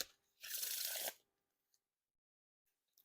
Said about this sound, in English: they're getting a little bit more smoother the more shuffles I do